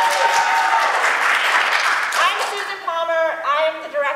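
Clapping for a virtual school drama performance of the Brothers Grimm, a brief burst of applause that quickly fades as a voice starts speaking over and after it.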